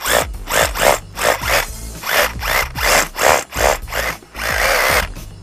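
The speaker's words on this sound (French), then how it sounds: "On perce donc le troisième trou." A power drill bores a hole for a resin anchor through a drilled timber joist hanger, hammering in loud rhythmic bursts that ease and resume, then run steadily at the end.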